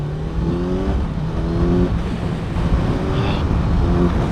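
A Kawasaki Z900 motorcycle engine revs up and down repeatedly in short bursts, loud and close, its pitch rising and falling with each twist of the throttle.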